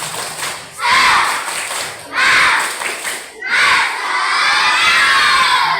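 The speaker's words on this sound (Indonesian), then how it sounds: "Oke, tepuk semangat" A group of schoolchildren at an anti-bullying session performs a spirit clap chant: three loud bursts of shouted chanting and clapping, the last one longer and sustained, with brief pauses between them.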